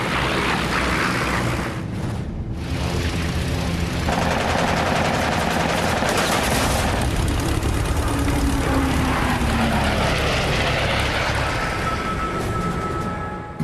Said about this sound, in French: Les 6 mitrailleuses Browning du Mustang abattent le 3e Messerschmitt de la journée.